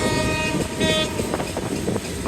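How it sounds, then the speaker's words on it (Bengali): An express train rumbling along at about 60 to 70 km/h in Bangladesh, with a loud continuous roar, rhythmic clatter of wheels and a brief horn-like tone, heard from onboard. "ট্রেনটি মোটামুটি ভালো স্পিডে চলাচল করছে"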